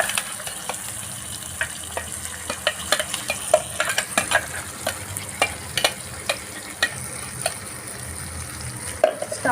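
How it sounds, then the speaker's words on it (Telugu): Blended tomato and onion paste fries in oil for paneer curry, sizzling steadily in the pan while a spoon scrapes and stirs it in repeated sharp strokes, close and clear. "ఆయిల్ కొంచెం ఇలా పైకి తేలాలండి. తేలేదాకా ఈ విధంగా వేయించుకోవాలి."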